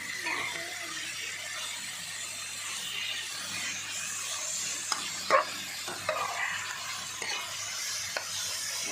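Beef being stir-fried in a pan makes a soft, steady sizzle, with a few brief scraping clinks of a utensil against the metal partway through.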